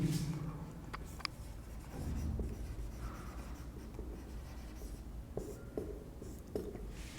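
A marker or chalk scratches steadily across a board in a civil engineering surveying lesson, a continuous close writing sound with small taps between strokes.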